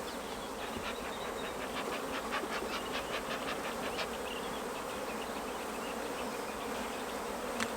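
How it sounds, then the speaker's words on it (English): Thousands of honeybees forage around a hive on a warm spring morning, a dense, even buzzing that fills the air steadily throughout, with individual bees zipping close past. "the bees are really busy today"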